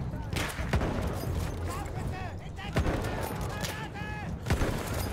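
Battlefield 1 gunfight with grenades: dense bursts of gunfire and sharp explosive bangs crackling over a busy battle din, with voices in the mix.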